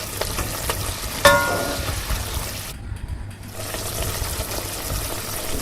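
Hot fried tempering with curry leaves is poured into sambar in an Indian kitchen, giving a steady hissing sizzle with one sharp crackle near the start and a brief dip in the noise midway.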